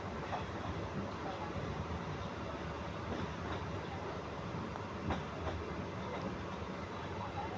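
A steady, rumbling roar of a passenger train running along the tracks past tea gardens near Sylhet, Bangladesh, with faint rhythmic clatter and wind noise throughout, no voices.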